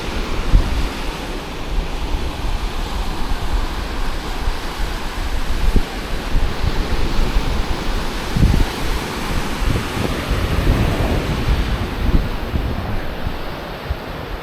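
Surf rolls onto Jurerê beach in Florianópolis, where it meets Praia do Forte, as a continuous loud wash of waves. Gusty wind buffets the microphone throughout.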